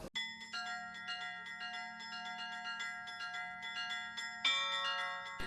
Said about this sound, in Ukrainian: лунають церковні дзвони